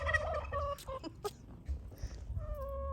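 Backyard chickens in a spring garden make a few close, wavering squawks and trilling calls in short bursts over a low outdoor rumble.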